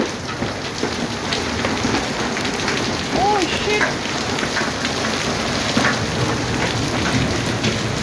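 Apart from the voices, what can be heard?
hailstones falling and bouncing on the ground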